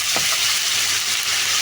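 Spices and onions fry in a pan, a loud close hiss and crackle of hot oil with a scrape of stirring near the start, continuous and without speech.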